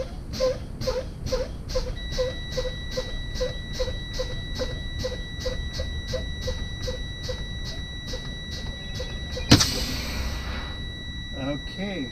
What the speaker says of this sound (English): both my parking and trailer brake valves popped out at 32 psi